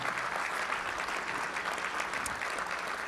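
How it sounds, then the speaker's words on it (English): An audience at a town inauguration ceremony applauds police, firefighters and first responders with dense, continuous clapping that holds steady from start to finish. "Let's have a round of applause for those who keep us safe."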